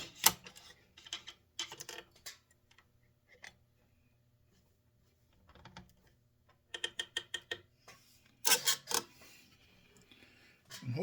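Scroll saw cutting a wooden 3D reindeer Christmas ornament, with bursts of fast buzzing, ratcheting blade chatter separated by quiet pauses, close and fairly faint.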